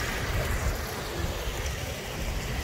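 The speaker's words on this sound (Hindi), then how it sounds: "इस पानी की आवाज मुझे अपने रूम में भी आ रही थी।" Water rushing past small footbridges and a small waterfall in the Bavarian Forest, a dense continuous wash of flowing water with a constant roaring hiss.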